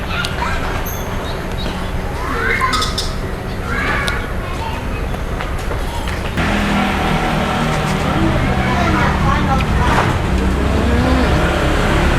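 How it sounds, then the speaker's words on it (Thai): Road traffic passes in front of a house, a steady broadband rumble of cars going by with occasional louder swells, continuous throughout, with people talking over it. "จะมีเสียงรถเขาเนเด้อ นั่งกินอยู่หน้าบ้าน"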